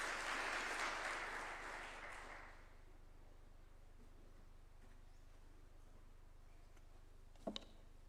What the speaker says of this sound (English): We can welcome him with a clap as well.